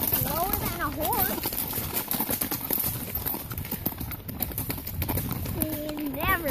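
Horses trot nearby with a rhythmic clip-clop of hooves, heard under excited chatter and children's voices for most of the clip.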